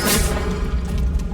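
A spell cast in the Hogwarts Legacy video game, a loud deep booming whoosh with a bright burst at the start and a low rumble that holds for about a second.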